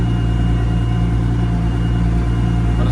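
A tractor engine with worn-out brakes running steadily, a loud, close, constant low rumble with no change in pace for the whole stretch.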